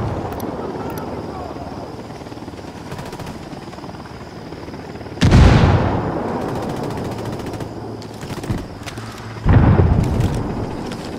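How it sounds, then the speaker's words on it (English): A helicopter flies overhead in the video game Ghost Recon Wildlands, a continuous rotor drone under game dialogue, with two loud bursts of gunfire or explosions cutting in. "Hit the dirt, helicopter."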